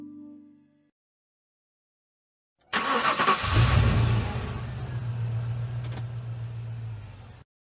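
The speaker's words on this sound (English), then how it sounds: "Car." A car engine starts and revs up loudly, then settles into a steady running hum, heard alone after a short silence.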